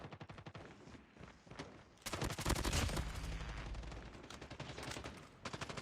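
AS Val gunfire in a first-person shooter video game: rapid suppressed bursts of automatic shots, with a denser, louder stretch of firing in the middle and quieter clicks and rattles around it, with no talking.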